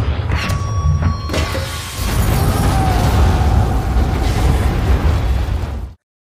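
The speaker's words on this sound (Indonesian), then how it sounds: "Tembakan itu juga yang secara tak langsung juga telah memicu ledakan pada tabung gas yang telah dipasang Kozlov sebelumnya." A gas cylinder blows up inside a room in an action film. A loud, sustained roaring blast with rumbling debris fills about six seconds and then cuts off abruptly to silence.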